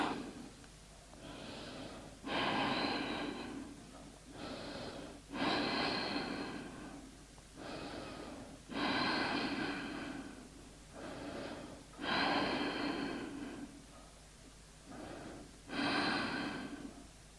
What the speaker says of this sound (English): Take deep breaths here.